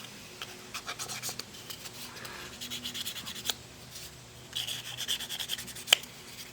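Contacts on a Bally Flip Flop pinball stepper unit are polished by hand, giving soft, close, irregular rubbing and scratching strokes with occasional sharper ticks.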